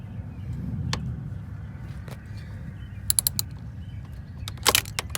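A ratchet backs out coil pack bolts on a 2009 Mercedes-Benz E350 M272 engine, giving short bursts of quick, sharp clicks close by over a low steady hum.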